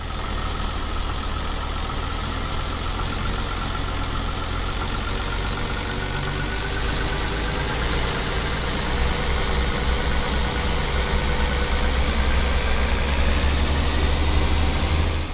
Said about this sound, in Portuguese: Quase que o motor não consegue subir o giro, né?